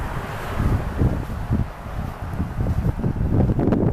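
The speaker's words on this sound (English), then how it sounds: "we got somewhat of a wind gust coming." Wind gusts steadily outdoors near a highway, a loud, continuous rumbling roar buffeting the microphone with fluctuating bursts throughout.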